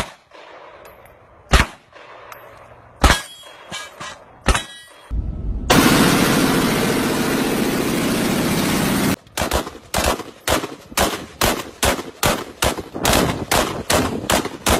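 Heavy firearms fired in a string of loud, sharp reports, a few spaced single shots, then a sustained roaring burst of automatic fire, followed by a rapid steady series of evenly spaced shots.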